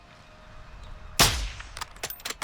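A single sharp sniper rifle shot in Call of Duty Modern Warfare 2 cracks loudly out of a quiet scene and decays with a low boom, followed by several faint clicks and rattles.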